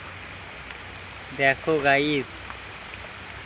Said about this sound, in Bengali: গাছগুলো বাতাস দিচ্ছে আর নড়ছে বৃষ্টি।